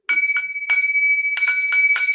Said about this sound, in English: I'm just ringing this bell this morning